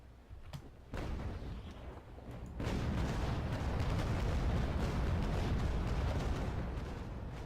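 Starboard naval cannon broadside in Naval Action, a sharp shot or two followed by a heavy, sustained roar of massed gunfire that rumbles on loudly to the end.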